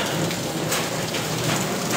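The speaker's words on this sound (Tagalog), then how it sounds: "Humina na ulan." Rain pours down steadily, a dense close patter of drops striking a surface with no letup and no voices.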